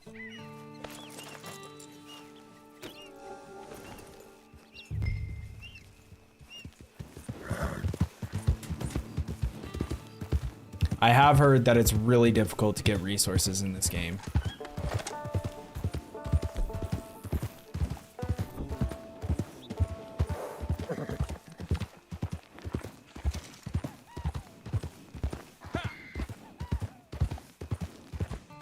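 Horse hooves clip-clop in Red Dead Online, a steady rhythmic run of clear, close hoof strikes that builds after a quiet start, with a neigh and someone talking in between.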